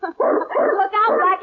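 A dog named Happy barks and yips in a radio drama, short excited bursts close to the microphone, overlapping with a voice talking over the noise.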